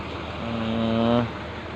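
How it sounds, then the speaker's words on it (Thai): A wheel loader or backhoe engine at a construction site rises into a short droning rev lasting under a second, then settles back, nearby and moderately loud over steady background noise. "รถตัก ไม่รถตักก็แมคโครนะครับ"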